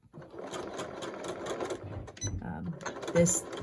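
A sewing machine stitching over thick elastic headband straps on a cloth face mask, a close, rapid mechanical whirring run that briefly slows and restarts, with a voice talking over it.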